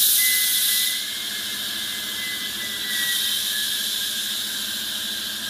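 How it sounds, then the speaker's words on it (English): Compressed air bleeds off through a filter valve in a steady, loud hiss with a high whine running through it, easing slightly after the first second and then swelling again. "Bleed off the pressure, use it to open the filter valve."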